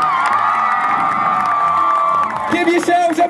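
Crowd at a trial bike show cheering and whooping loudly and steadily, with a higher voice joining near the end as the noise breaks up.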